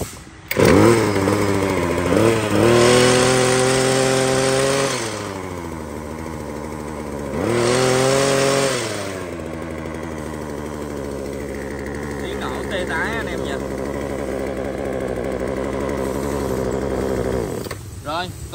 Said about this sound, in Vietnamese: Con tỉa hàng rào dùng xăng lam 60, động cơ 2 thì 25cc.